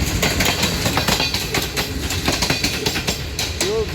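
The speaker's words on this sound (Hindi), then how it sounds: "बहुत अच्छी स्पीड यहीं से लोकोमोटिव ने काफ़ी स्पीड पकड़ ली है जी GEU20 ने, और काफ़ी स्पीड में गुजर गया है जी।" A GEU20 locomotive hauls a train past at speed through Lahore railway station, a continuous loud rumble with rhythmic clickety-clack of wagon wheels and a brief wheel squeal near the end.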